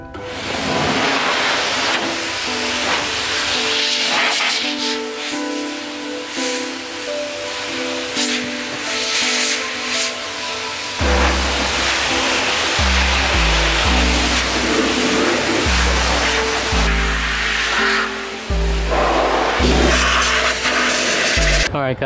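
A loud, steady whooshing blast of air from a blower drying water off a Mitsubishi Evo 8 MR, with a broad noisy roar, shifting in pitch partway through, running continuously from start to finish.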